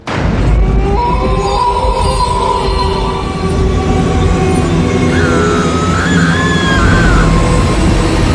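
A train approaches loudly on railway tracks with a heavy rumbling roar, high metallic wheel squeals and whining tones sliding over the top, building steadily and never letting up, used as a horror story sound effect.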